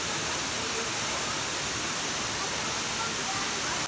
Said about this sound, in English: It seems like it's raining, but it's just the waterfall.